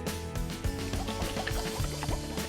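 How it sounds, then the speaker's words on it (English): Lime juice dressing with zest, salt, pepper and green jalapeño hot sauce is poured over shrimp, giving a short, close, wet trickling and splashing that continues for a couple of seconds. "I'll pour this over the shrimp."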